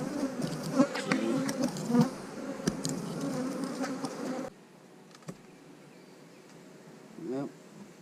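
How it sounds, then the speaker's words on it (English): Honeybees hum and buzz steadily from an open hive in mid-April, a dense, close drone for the first half before dropping to a quieter background buzz with a brief louder pass near the end. "Well, they have a lot of bees in here, that's for sure."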